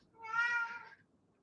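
A pet cat named Chino gives a single drawn-out meow, close and clear, rising and fading over about a second with no talking.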